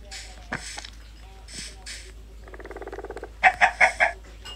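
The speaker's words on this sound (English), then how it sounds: "Let's spawn the chicken." Blocky game chickens in Minecraft Pocket Edition 1.19, a string of short clucks and squawks, with a quick rattling run of notes and then four louder squawks close together toward the end.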